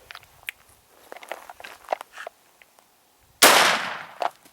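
A shotgun fitted with a Short Lane adapter fires from about 30 feet away, with one loud, sharp blast standing out among scattered clicks and light handling noises.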